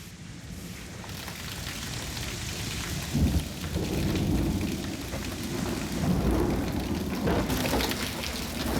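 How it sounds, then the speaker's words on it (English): Steady heavy rain pours down while thunder rumbles low and rolls in a couple of swells, a dense continuous wash of sound with no voices. "But now it's raining and I think it's gonna mess up quite a few bits."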